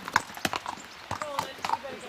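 Horses in Wales move about over spilled cow cake, their hooves clip-clopping in irregular knocks with soft snorting and shuffling close by, while a voice talks over them.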